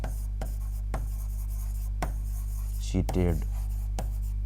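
Chalk or marker scratching on a classroom board in short, dry strokes under a constant low hum, with a brief spoken word breaking in partway through.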